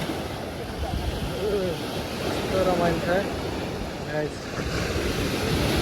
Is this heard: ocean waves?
yes